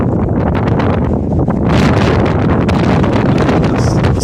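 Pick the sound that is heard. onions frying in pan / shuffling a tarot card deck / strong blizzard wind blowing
strong blizzard wind blowing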